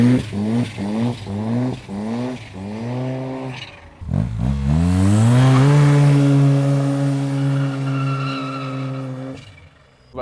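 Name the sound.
Nissan GTR engine running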